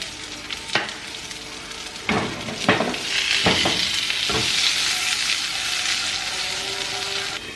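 Asparagus sizzling steadily in a hot pan with onion powder, garlic salt and pepper, a continuous close fry broken by several sharp scrapes and taps of a utensil stirring against the pan.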